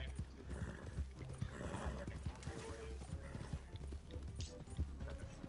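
Rapid hoof clip-clops with a horse whinny in the video game Red Dead, under constant game background noise and a low rumble.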